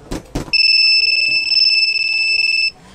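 A piercing two-tone electronic alarm from a Honda Fazzio scooter's anti-theft system shrieks continuously for about two seconds after a couple of soft clicks, then cuts off abruptly.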